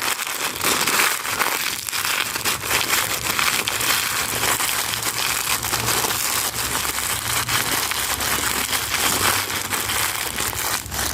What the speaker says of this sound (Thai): และเมื่อขยำเปลือกไข่ให้ละเอียดแบบนี้แล้วนะคะ